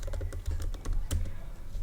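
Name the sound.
typing a command on a computer keyboard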